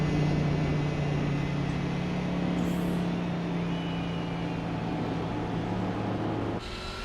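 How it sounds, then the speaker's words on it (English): A steady, droning car engine with a whining, turbo-like tone in Gran Turismo 4, heard from a naturally aspirated car, holding an even pitch for several seconds before a sudden shift near the end; no talking. "I don't understand why my car sounds like it's got a turbo in it when I naturally aspirated it."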